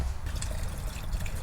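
Gasoline poured into a container to submerge Honda CRF 50 parts, a steady close trickle and splash of liquid that runs throughout with no talking.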